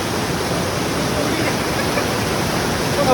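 Chaulibhaja waterfall in Mayurbhanj pours in a steady, dense roar of rushing water, loud and close, with a constant broadband hiss that barely varies throughout.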